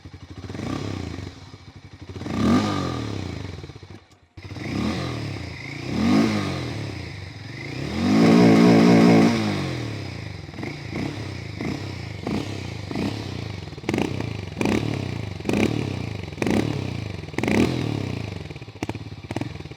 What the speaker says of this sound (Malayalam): ഇതിൻ്റെ എക്സോസ്റ്റ് നോട്ട് എന്ന് പറയുന്നത്. ഇപ്പോൾ നമുക്ക് അതൊന്ന് കേട്ട് നോക്കാം.